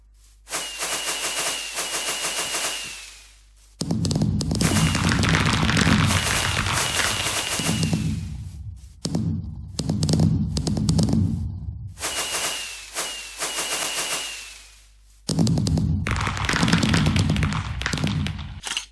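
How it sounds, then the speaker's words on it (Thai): Minecraft fireworks launched during an in-game city pillar shrine celebration, heard as long dense bursts of rapid crackling pops in several loud sequences separated by short gaps. "ต่อไปนะครับก็จะเป็นการนะครับจุดพลุนะครับ"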